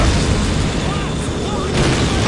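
Artillery barrage explosions in the Call of Duty 2 video game, a loud, continuous rumbling roar of booms and blasts that fills the whole stretch, with voices mixed into the din.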